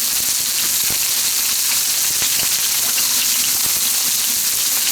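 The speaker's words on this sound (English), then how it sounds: "It's splashing because it's got water in the chicken." Watery chicken frying in a wok, a continuous loud sizzling hiss with scattered sharp pops and spatters, no voices.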